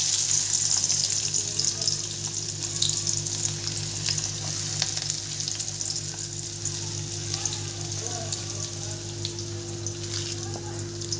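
Chopped onion frying in hot oil makes a dense, constant crackling sizzle, with faint clinks from stirring. A steady low electrical hum runs underneath the whole time.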